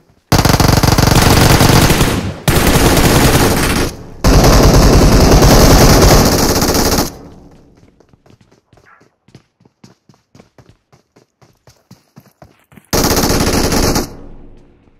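Air guns fire in loud, rapid automatic bursts, three long volleys close together, then a stretch of faint scattered clicks before a final short burst.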